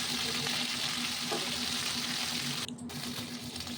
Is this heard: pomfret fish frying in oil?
yes